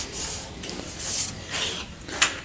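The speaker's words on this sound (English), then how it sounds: "Looks like I got a little bit of sanding left to do right there." Someone sands a car door panel on a 1971 Monte Carlo under restoration, making close, hissing rubbing strokes in a few uneven passes.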